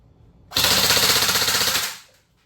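An airsoft M4 rifle fires on full automatic in one loud, sustained burst of about a second and a half, with rapid evenly spaced shots, close up and with no talk.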